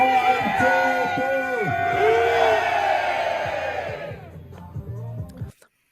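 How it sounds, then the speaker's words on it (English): A group of people cheers and yells hooray for the Bengals' 2021 season with loud, overlapping shouts and whoops that hold for several seconds, then trail off into scattered voices and silence. "Let's cheer loud, proud. Here's to a great 2021 Bengals season. I play. Give me a hooray."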